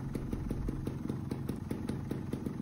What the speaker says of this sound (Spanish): dejar la moto a ralentín sin tocar el puño de gas